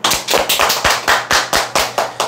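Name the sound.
audience clapping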